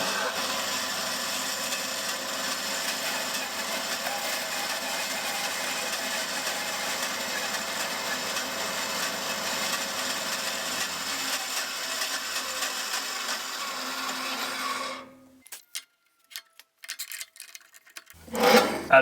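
A saw cuts oak casement window rails to haunch depth, a steady whirring cut running close and loud for about fifteen seconds before it stops, followed by quiet clatter and a closing thump.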